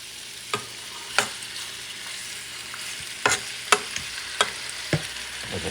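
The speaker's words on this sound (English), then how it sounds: "I'm going to start adding these ribs." Korean short ribs (galbi) sear in a hot pan with a steady, close sizzle, and sharp clinks and scrapes of stirring punctuate it every second or so.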